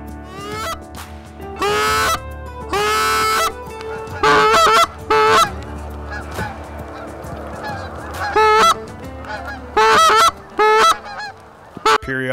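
Loud geese honking in repeated bursts, several birds calling together close by in a field, with a steady low rumble underneath and short quiet gaps between calls.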